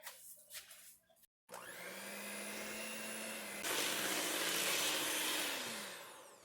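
Electric mixer whirring through pumpkin chocolate chip cookie dough, a steady motor whine that starts after a brief pause, holds close and loud, shifts pitch partway as the speed changes, then winds down.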